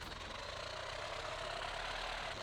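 A farm tractor in a farming video game pulls a newly bought cultivator, its engine giving a quiet, steady low drone with no break or change in pace.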